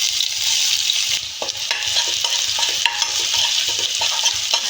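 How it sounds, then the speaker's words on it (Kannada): Finely chopped onion fries in hot oil in a kadai, with a steady close sizzle under irregular stirring scrapes of a spoon against the pan. "ಆನಿಯನ್ನ ಚೆನ್ನಾಗಿ ಫ್ರೈ ಮಾಡ್ಕೊಳ್ಳೋಣ"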